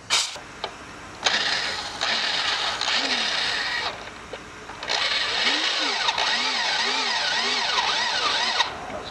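Thread-cutting tool working metal inside a head bolt hole on a Toyota 2.4L engine, a steady grinding, squealing scrape with rising and falling whines, close and continuous with brief pauses.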